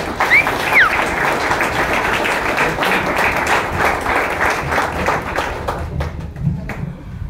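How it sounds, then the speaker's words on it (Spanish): A hall crowd at an evening recovery group meeting breaks into sustained, dense clapping that carries on steadily for several seconds before thinning out near the end. "Un aplauso."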